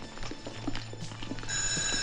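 A fire alarm bell rings during a 1982 school fire drill, a steady electric ringing that swells louder near the end over a low background hum.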